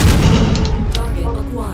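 Loud missile explosions and heavy weapon impacts from the mech combat game MechWarrior 5, a dense booming rumble filling the short span with layered blasts and a faint synthetic voice in the mix.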